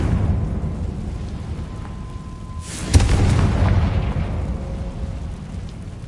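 In Hogwarts Legacy, a Confringo blasting spell goes off as one sudden, loud crack-like boom, followed by a rumbling tail that fades over a constant low ambient hiss.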